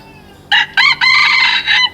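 A Thai fighting rooster crows loudly and close by, one full cock-a-doodle-doo call in several harmonic bursts with brief breaks, over a quiet background.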